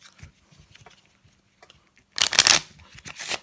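Quiet soft rustles and ticks, then a loud riffle of playing cards being shuffled, followed by another shorter burst of shuffling.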